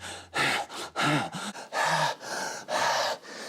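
A voice imitates a woman panting into a microphone on stage after a song: about six rhythmic, loud, close breathy gasps in quick succession, alone.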